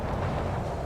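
Torpedo strike on an enemy battleship in World of Warships erupts as a brief, heavy, rumbling explosion, loud and close, filling the whole moment with dense low boom.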